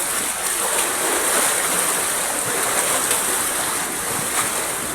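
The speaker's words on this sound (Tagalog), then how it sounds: "mga alon at hangin." Sea waves and wind as a storm approaches the coast, churning water washing steadily with a broad rushing hiss of gusts, continuous and fairly loud with no voices.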